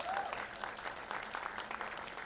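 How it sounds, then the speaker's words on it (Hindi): Loud applause for actor Goga Kapoor at a celebration of the film Qayamat Se Qayamat Tak, a crowd clapping in a dense, continuous patter heard from a distance for a couple of seconds. "तालियां हो जाएं।"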